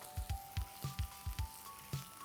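Whole red chilies hit hot oil in a pan for Rajasthani Marwadi potatoes, giving steady sizzling with a series of sharp pops and crackles at close range.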